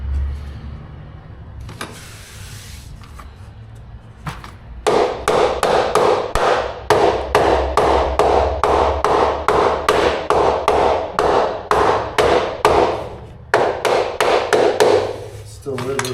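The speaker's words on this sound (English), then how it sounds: "There's a tool that has a piece here that you can hammer back." A tapping tool is hammered to close seams in luxury vinyl plank flooring laid over concrete: a few isolated knocks, then a long run of loud, rapid, evenly spaced whacks that pause briefly before resuming.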